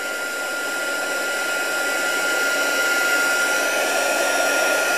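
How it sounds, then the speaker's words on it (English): An embossing heat tool blows a loud, steady, close-up hiss and whine over a card to melt embossing powder, a continuous hair-dryer-like airflow with no pauses or talk. "then I will just run the heat tool over the rest of the card"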